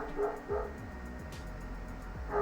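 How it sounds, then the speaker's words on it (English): A pet dog barks at a distance indoors, a few quick, faint yips in a loose rhythm over a low background hum. "I'm not sure what my dog's barking about."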